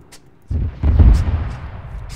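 Artillery fire in the video game Arma 3 during a WW2 Soviet tank assault, a loud low boom with a rumbling tail, followed by fainter distant sharp pops.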